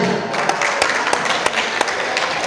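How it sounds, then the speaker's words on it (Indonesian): Applause for the organizing committee at a Batak youth Christmas celebration in Medan, a loud, dense crowd clapping throughout, with a few sharper individual claps standing out from the steady wash. "Kita tepuk tangan buat panitia khususnya."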